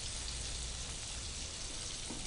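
Chicken cheese fingers frying in hot oil give a steady, dense sizzle and crackle that runs evenly for the whole stretch, close by and with no voices over it.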